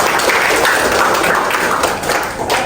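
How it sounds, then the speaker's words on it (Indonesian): Classroom applause, a loud, dense and steady burst of clapping from a group that eases slightly near the end. "Oke, tepuk tangan."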